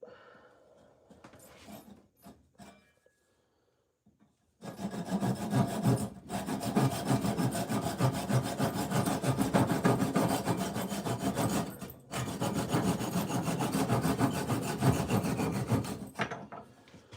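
Hand tools shaping wood for a new chisel handle, a steady rasping and sawing scrape that runs loud and continuous after a quiet start, with two brief pauses.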